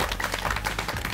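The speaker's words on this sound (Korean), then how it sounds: "다시 한번 환영의 박수 부탁드리겠습니다" A studio audience claps steadily for about a second, a dense wash of applause welcoming a male guest onto a Korean entertainment show, with no voices over it.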